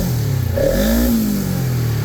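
A 2014 Polaris RZR 900 side-by-side engine floored to full throttle, a loud close rev whose pitch rises and then sustains in a steady high drone, with no talk over it.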